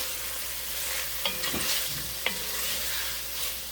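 Corned beef and vegetables sauté in a pot, giving a steady close sizzle with a few sharp stirring knocks and scrapes from a utensil, no talking.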